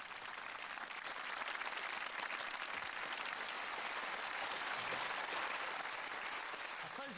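The studio audience of Who Wants To Be A Millionaire? (UK) claps for contestant Zain in a continuous, even burst of applause. It sounds somewhat distant and stays steady throughout, with a brief hint of a voice at the very end.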